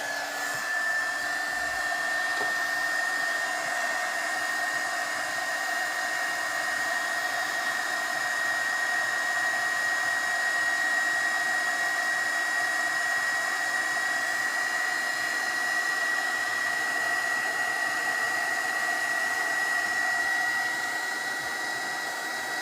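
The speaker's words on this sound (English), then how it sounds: "I'm going to try to dry it with this heat gun that I" A heat gun blowing hot air to dry foil on a journal card, holding a loud, steady whooshing whine with a constant high tone from start to finish and no talk.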